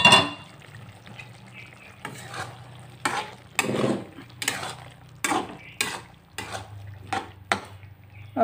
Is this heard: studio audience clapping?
no